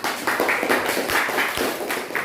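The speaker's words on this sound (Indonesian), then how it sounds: "Berikan tepuk tangan." A classroom audience claps together, a steady patter of hands at moderate distance for a couple of seconds with no talk over it.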